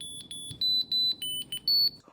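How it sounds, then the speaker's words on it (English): A card tracker pinged by a Find My tracker app gives a series of high, shrill electronic beeps in short pulses, then a few longer tones, fairly faint and alone. "I can have these apps beep the card so I can hear where it is."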